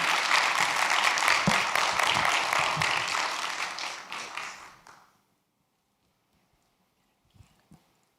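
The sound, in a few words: audience applause for an award recipient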